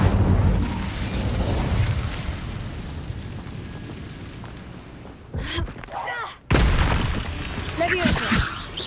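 An Incendio fire spell cast in Hogwarts Legacy: a fiery burst and whoosh within dense, continuous game noise, cutting out briefly before another loud swell of crackling blasts.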